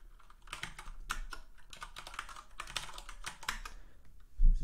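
Rapid typing on a computer keyboard while setting up a zrok Docker instance, a steady run of close, crisp key clicks with a brief louder knock at the end, no talk.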